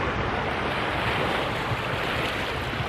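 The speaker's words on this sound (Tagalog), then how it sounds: "Sarap pakinggan ng alon." Ocean waves wash steadily onto a beach on a morning walk, a continuous broad hiss of surf with wind noise, close and fairly loud, with no voices.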